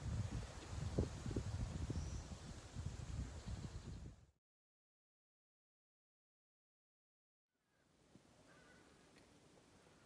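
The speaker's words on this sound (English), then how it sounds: "It is windy again, so windy." Strong wind buffets the microphone outdoors among tobacco plants in the Western Cape, a loud, rumbling roar for about four seconds, then a gap of silence before softer, steadier gusts return.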